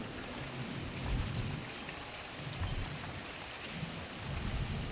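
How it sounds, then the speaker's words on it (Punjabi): Steady, dense rain pours down continuously over farm fields, with low rumbling swells underneath like distant thunder, no voices present. "ਇੱਥੇ ਤਾਂ ਮੀਂਹ ਪੈ ਗਿਆ"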